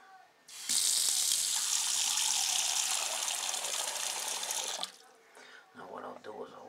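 Running water pours steadily from a faucet into a sink for about four seconds, then stops, leaving a few faint drips and someone speaking quietly.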